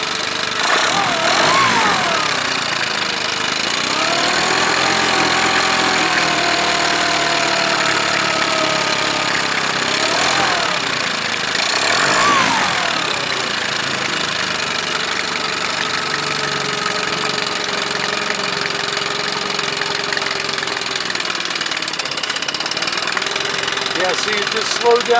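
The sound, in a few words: Yamaha 15 hp 4-stroke outboard motor running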